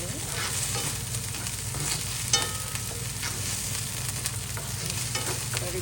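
Street-style veg noodles stir-fried with green chilli sauce in a hot pan, a loud steady sizzle with continuous stirring and tossing, close up and uninterrupted, with a low hum underneath.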